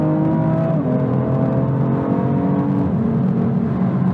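A BMW M4 CP engine pulls hard under acceleration, its tone climbing steadily, then dropping briefly at a gear change around one second and again near three seconds, loud and continuous with no talking.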